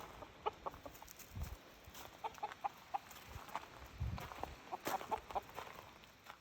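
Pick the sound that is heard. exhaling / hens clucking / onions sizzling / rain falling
hens clucking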